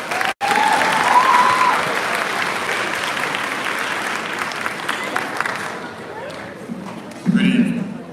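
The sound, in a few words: applause for school board president at graduation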